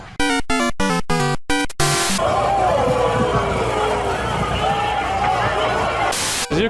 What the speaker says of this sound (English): As you can see, there is a large crowd here.